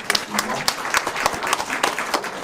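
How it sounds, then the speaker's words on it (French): Audience applause at an art-book prize ceremony at Drouot in Paris, dense continuous clapping from a crowd with sharp individual claps standing out, fairly close and steady throughout, with a voice faintly audible underneath. "on peut l'applaudir."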